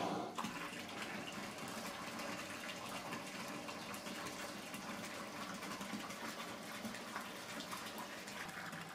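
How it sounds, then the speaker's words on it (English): A bathtub fills from the tap with a steady close rushing gush of water that runs continuously at an even, moderate level, with no talking. "I am going to fill up my tub the rest of the way"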